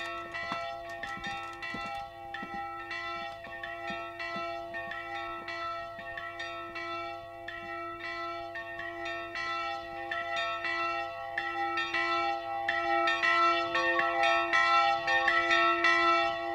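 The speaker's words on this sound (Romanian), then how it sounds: "Bat clopotele." Church bells ring steadily for a long stretch in a tolling, overlapping pattern. A sustained hum of resonance sits under the strikes, and the peal grows louder toward the end.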